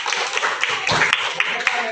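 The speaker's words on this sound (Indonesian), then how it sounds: "Tepuk tangan juga sempat." Students clapping together in a classroom during a social studies lesson, a short burst of dense, brisk applause with voices mixed underneath.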